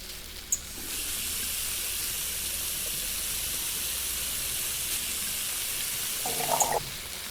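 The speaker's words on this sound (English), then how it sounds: "getting a pot and filling it up with water" A pot being filled with water from a kitchen tap in a cooking simulation game, giving a steady hissing rush of running water that holds for about six seconds before cutting off, with no voices.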